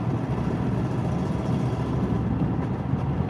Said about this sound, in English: that's his truck literally about to blow